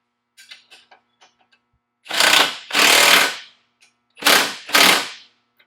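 A half-inch impact wrench tightens a trailing arm bolt on a vehicle in a few loud, close hammering bursts, two pairs separated by a pause, after some faint clicks.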